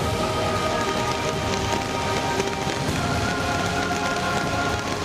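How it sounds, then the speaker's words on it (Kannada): Heavy monsoon rain pours in the Malnad region of Karnataka, a dense, continuous roar of rain hitting surfaces, steady and loud for the whole stretch with no voices. "ಮಲೆನಾಡು ಭಾಗದಲ್ಲಿ ಮಳೆ ಅಬ್ಬರ ಮುಂದುವರೆದಿದ್ದು"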